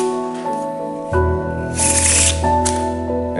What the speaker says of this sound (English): So that's the freeze frame shuffle.